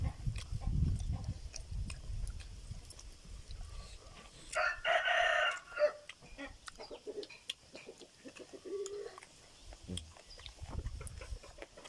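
Backyard chickens forage while a rooster crows once, fairly close and loud, over soft clucking and scattered rustling in a rural home setting. Quieter outdoor noises fill the rest of the scene.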